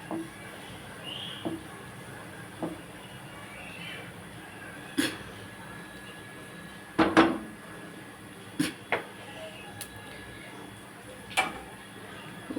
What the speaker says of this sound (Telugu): ఇవిగోండి వేగుతున్నాయి. ఇవి భయం అండి బాబు, ఇవి పట్టుపట్లాడుతూ మొహం మీదకి వస్తాయి లవంగాయలు